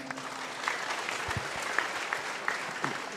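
Audience applause for Mas Abrang at an evening gathering in Padang Bulan, a fairly faint, steady patter of clapping with a few sharper claps standing out over about three seconds.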